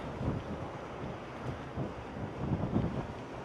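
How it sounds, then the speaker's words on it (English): Strong wind buffets the microphone in a low, continuous rumble with gusty swells. "Ooh, it's windy."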